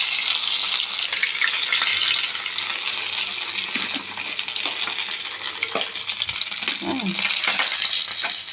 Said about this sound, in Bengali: এবার আমি দিয়ে দিচ্ছি তেলের মধ্যে রসুন আর আদা বাটা দিয়ে দিচ্ছি আর কাঁচা লঙ্কা